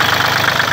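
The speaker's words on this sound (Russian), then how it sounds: "Вот такой вот у нас трехцилиндровый двигатель." A three-cylinder diesel engine on an ISEKI TU1 four-wheel-drive Japanese mini tractor idles steadily and loudly up close, with an even knocking chug and no voices.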